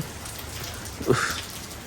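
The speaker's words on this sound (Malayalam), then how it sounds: "ഓ മഴയാണ്" Light rain falling outdoors during a trip to Russia, a steady soft patter of drops on surfaces, fairly faint and continuous with a slight swell midway, no talking.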